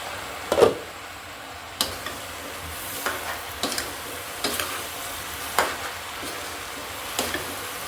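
Bottle gourd bhaji is stir-fried on low heat: a soft, constant sizzle runs beneath repeated spatula scrapes and taps against the pan, coming roughly every second or so.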